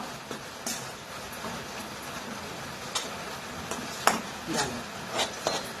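A fasting barfi mixture stirred in a pan, with soft scraping and occasional knocks of the spoon against metal over a continuous hiss, moderately close with faint voices in the background.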